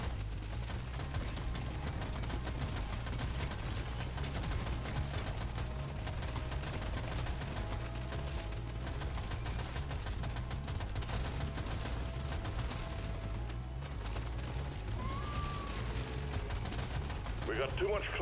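Deep Rock Galactic gunfire rattles in rapid, steady repeated bursts throughout, fairly quiet and mixed with other game sounds and a talking voice.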